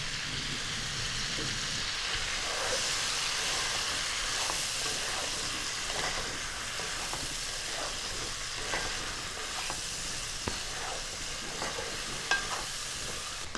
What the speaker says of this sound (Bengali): এখন আমি এই পেঁয়াজ আদা রসুনের পেস্টটা দিয়ে দিচ্ছি।